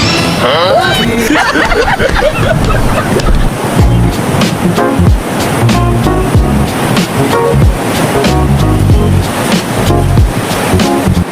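Steady rushing sea surf washes continuously onshore, loud and close, with children's voices and shouts mixed in throughout during a beach race.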